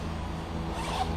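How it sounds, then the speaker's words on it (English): Zipper pulled along the door of a Coleman Exponent Avior X2 tent, a steady close rasping slide lasting about a second with no voices. "It's got a little zip up piece here"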